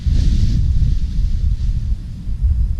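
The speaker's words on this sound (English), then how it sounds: "Now I'm gonna get a bunch of wind." Strong wind buffets the microphone outdoors while a paramotor wing is kited, a loud, continuous low rumble with gusty swells and no talking.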